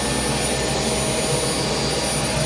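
A military Gazelle SA342M helicopter whines loudly and steadily at close range as its rotor engages during start-up, a continuous turbine roar with no talk.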